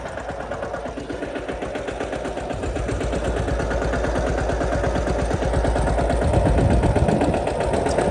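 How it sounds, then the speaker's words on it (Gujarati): A tractor engine running steadily nearby, a loud rapid low chugging throb that builds slightly and holds without pause. "અમારે દીપાભાઈ ટ્રેક્ટર રાખે છે."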